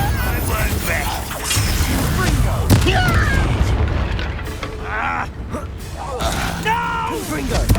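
Confringo fire spell blasts from the video game Hogwarts Legacy, several booming impacts with crackling debris spread through a busy battle mix, under a shouted voice and game music.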